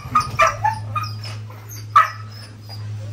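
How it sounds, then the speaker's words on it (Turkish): A village dog barking in several short yips and whimpering barks, close and fairly loud over a steady low hum, with a final louder bark near the end. "Allah'ım köpek."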